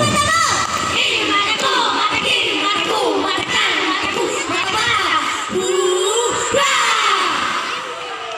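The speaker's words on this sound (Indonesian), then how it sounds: "Boleh sekali lagi kita berikan tepuk tangan yang meriah kepada anak-anak STP SD Islam As-Sofa." An audience cheers for schoolchildren at an Islamic primary school ceremony in Indonesia, with loud sustained crowd noise, whoops and shouted voices running the whole time and young voices calling out over it.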